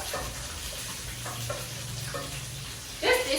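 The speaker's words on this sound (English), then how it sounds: "So I like to fry the onions until they brown." Onions frying in a pan while preparing fish, a steady close sizzle with light stirring scrapes running throughout, growing briefly louder near the end.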